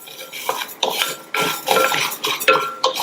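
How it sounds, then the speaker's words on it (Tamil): Sago pearls being dry-roasted over a low flame in a pan for payasam, with a spoon scraping and stirring in repeated clattering strokes, close and fairly loud, no talking. "இதுல நம்ம எடுத்து வச்ச ஜவ்வரிசியை சேர்த்துட்டு நிதானமான தீயில வச்சு இந்த ஜவ்வரிசி நல்லா பொரியிற அளவுக்கு வறுத்துக்கங்க."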